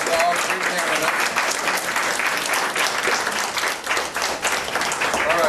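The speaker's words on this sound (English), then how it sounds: "Now let's give a round of applause to all three candidates." Sustained applause from an audience at a local Democratic candidates forum held in a cafe, a dense, steady wash of clapping at close range throughout, with faint voices mixed in.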